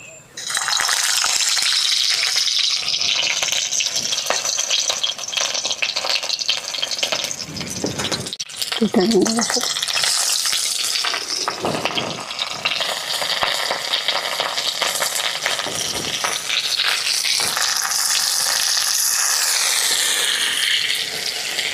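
Stuffed onion eggs placed one by one into hot oil, giving a steady loud sizzle and bubbling that runs throughout with brief clatter from handling, no talk.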